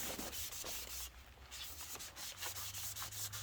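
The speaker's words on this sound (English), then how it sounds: "take some brake cleaner, go on the outside of the new rotor, and clean off any grease" A rag wipes brake cleaner and grease off a new brake rotor on a Dana 60 front axle of a first-generation Cummins, a faint, close, rhythmic rubbing in short repeated strokes with a brief pause midway.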